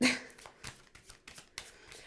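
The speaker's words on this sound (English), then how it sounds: "One more shuffle." Tarot cards are shuffled by hand close up, a quick burst followed by several soft riffling slaps and taps spaced irregularly, fairly quiet with no talking.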